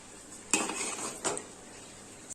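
A metal spoon scrapes and clatters against a pan while chicken fried rice is tossed, two distinct stirring strokes ringing brightly over a faint sizzle, close up with no voices.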